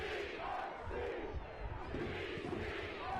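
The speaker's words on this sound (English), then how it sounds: "You hear the crowd beginning to ramp up in this match." A football stadium crowd at a Detroit City FC versus Loudoun United FC match gives a sustained low roar of chanting and cheering, steady and broad, with a voice faintly audible over the noise.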